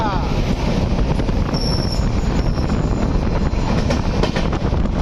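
The Sampoorn Kranti Express running from Patna to New Delhi, heard as a steady, loud roar of rolling wheels and rushing wind, with no talking.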